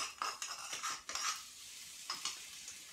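Garlic, chilies and ginger stirred in a pan, with repeated clinks and scrapes of a utensil against the metal over a light sizzle, close and moderately loud in short bursts.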